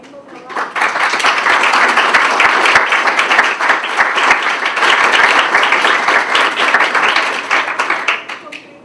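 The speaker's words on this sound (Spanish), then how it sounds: "quiero darles otro aplauso porque entiendo que es tremendo trabajo" An audience at a Puerto Rico disaster-and-memory project presentation breaks into loud, dense applause, many hands clapping steadily for several seconds before it tapers off at the end.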